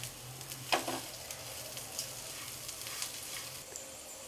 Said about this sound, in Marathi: याला व्यवस्थित तेलामध्ये फ्राय करून घ्यायचं आहे